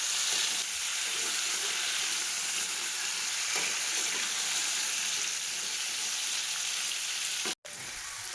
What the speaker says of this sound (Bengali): এবার আমি আলু কুমড়োগুলো এক এক করে ভেজে তুলে নেব।